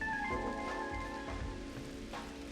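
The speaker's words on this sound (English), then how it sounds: "I don't need to worry about wetting the crops because it's raining." Steady rain falls in the horror farming video game Elderfield, a continuous broadband patter with a faint musical drone underneath, constant and moderately loud for its whole length, with no voices.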